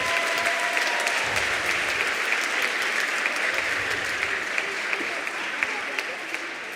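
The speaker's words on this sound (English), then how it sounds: "give them another round of applause." An elementary school audience of grandparents and special friends applauds students, a steady wash of many hands clapping that holds throughout with faint voices underneath.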